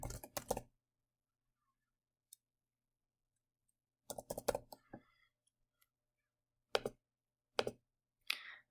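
Computer keyboard typing a chart title, heard as a quick burst of key clicks, a long pause, then another cluster of taps followed by a few isolated keystrokes, close and fairly quiet.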